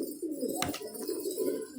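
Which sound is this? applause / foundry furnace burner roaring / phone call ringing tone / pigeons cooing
pigeons cooing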